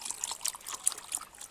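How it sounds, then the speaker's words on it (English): Water trickles and splashes as it is poured into oats for porridge, a short close, bubbly gurgle lasting just over a second. "Just add some water to it."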